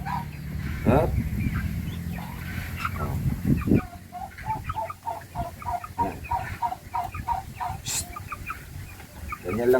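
A hen clucking while being fed, repeated short clucks and calls close by after an initial stretch of louder rustling and background noise, with one higher squawk near the end.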